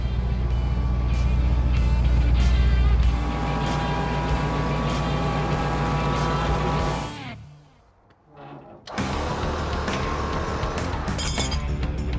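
A tow truck engine runs with a loud, close, heavy rumble, then drops away almost to silence for about a second before roaring back and idling steadily again.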